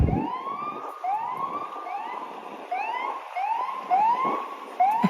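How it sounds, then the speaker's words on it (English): A police siren wails on a New York City street, its rising sweeps repeating about once a second, fairly loud and nearby over low traffic rumble. "And you hear the siren, guys."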